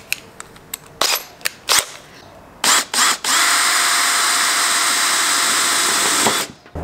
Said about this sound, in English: Drills a pilot hole.